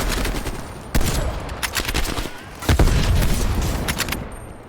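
Gunfire in the video game Call of Duty Black Ops Cold War campaign: a rapid fusillade of shots with heavy booming reports and bursts, loud and close, without speech.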